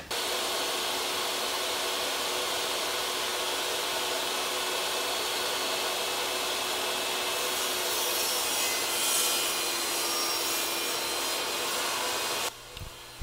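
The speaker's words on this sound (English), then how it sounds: "here I'm cutting a full sheet of plywood into different squares" A power saw cutting a full sheet of plywood into squares for a woodworking workbench, a loud steady whining cut running almost without a break for about twelve seconds before it abruptly drops off near the end.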